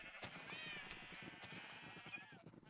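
A cat in the video game Minecraft lets out a drawn-out, faint meow, with another softer meow toward the end over a quiet game background.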